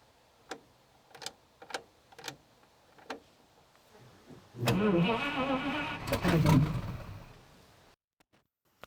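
A 1950 Buick, unstarted for 55 years, comes after several sharp clicks: the starter cranks, the engine catches briefly with a rough, fairly loud churn for about three seconds, then cuts off into silence.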